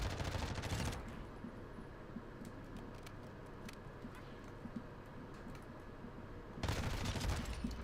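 Rapid gunfire crackles in a shooter video game, with a dense burst at the start and another near the end. A quieter stretch of scattered shots and game noise lies between them, all fairly faint.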